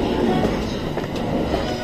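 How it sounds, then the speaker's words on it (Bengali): A Tokyo commuter train pulls out of a station at evening peak hour, a loud close rumble of wheels and cars rolling past with a brief squeal. "আমার ট্রেনটা ছেড়ে গেল"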